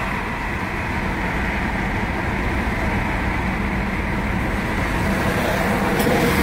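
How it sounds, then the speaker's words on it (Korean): Inside a Tesla Model 3, a bus passing alongside makes a steady, muffled low roar of engine and road noise that swells slightly toward the end. "지금 버스가 이제 오고 있고"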